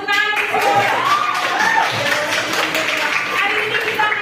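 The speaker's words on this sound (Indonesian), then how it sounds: "Iya, kasih tepuk tangan." Students clap together in a classroom, a busy, moderately loud patter of many hands with voices talking over it throughout.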